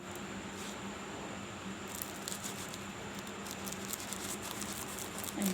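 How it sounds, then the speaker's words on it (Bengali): A knife slices through a crisp fried soya chow roll, a soft patter of crackly crunches that grows more frequent partway through, close and quiet. "কাটবো আমি"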